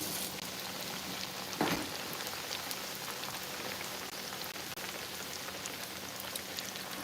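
Water runs steadily from a kitchen tap as food is rinsed little by little, a continuous close hiss with one brief louder splash near the start.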